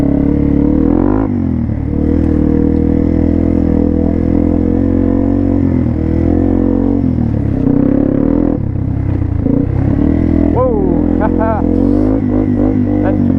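A Yamaha TW200 dual-sport motorcycle with a DG exhaust roars continuously up close, revving up and down off-road, with clattering and scraping from rutted woodland terrain.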